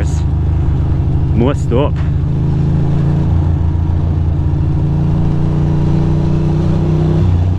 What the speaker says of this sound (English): Look at all these cars.